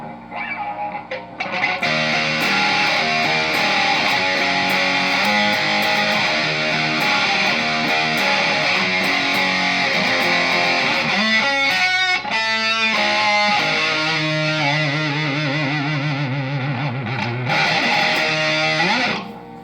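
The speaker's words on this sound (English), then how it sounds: "And now here's the Fuzz!" A heavily distorted, fuzzy electric guitar plays sustained chords and riffs, thick and buzzing, with a few choppy stabs before ringing out.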